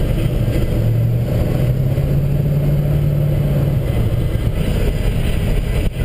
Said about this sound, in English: This truck drives beautiful.